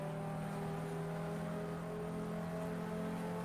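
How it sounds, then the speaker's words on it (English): Race car engines from the GTR2 simulator at the 2003 Spa 24 Hours, with Ferraris and Porsches pitting, hum steadily at a distance in a low, continuous drone without sharp revs. "Sounds like some of the Ferraris and Porsches are pitting now."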